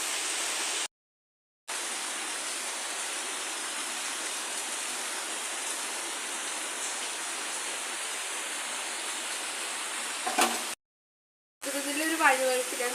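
Water drains off boiled macaroni in a continuous, close rushing splash that holds steady for several seconds and is broken by short cuts, with a brief clatter near the end.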